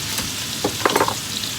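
Steak and garlic frying together in a pan, a close, bright sizzle with a few short crackles and stirring scrapes near the end.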